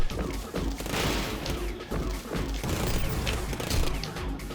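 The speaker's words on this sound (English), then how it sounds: "even these guys can't really land a hit with that mortar gun" A mortar gun fires repeatedly in the video game Rengoku: The Tower of Purgatory, with dense booms and crashing impacts layered over a loud, busy battle din.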